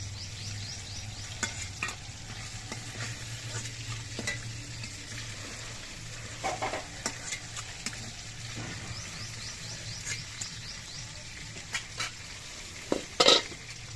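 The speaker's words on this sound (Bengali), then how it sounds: "বাকি মাছগুলো ভেজে নিচ্ছি" Pieces of Ganges rita fish fry in a pan with a steady, even oil sizzle, broken now and then by brief clinks and scrapes of stirring, with no voices.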